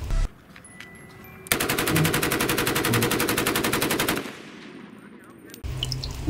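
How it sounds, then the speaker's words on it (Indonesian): A toy gun fires a rapid, evenly pulsing burst of shots for about three seconds, loud and close, with quieter handling noise before and after. "Wih, ternyata ini tembakan"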